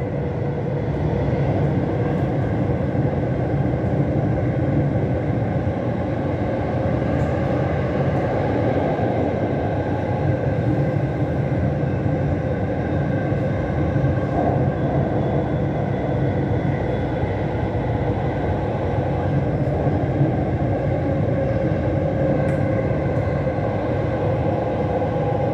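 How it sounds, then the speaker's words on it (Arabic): A Dubai Metro train runs through a tunnel with a steady, loud, continuous rumble and a faint whine that hold unbroken throughout. "The final destination of this train is Expo 2020."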